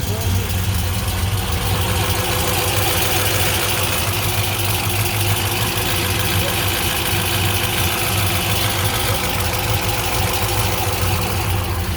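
A 1971 Chevrolet Nova with a fresh 350 full-roller motor runs steadily, its loud, dense engine rumble holding throughout at close range.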